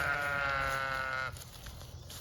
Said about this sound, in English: All right, these are Ruby's 2 sheep.